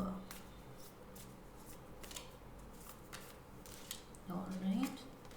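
Oracle cards are shuffled close by, with a crisp flutter of quick riffling strokes repeating through the stretch and a fuller burst near the end, against a quiet room.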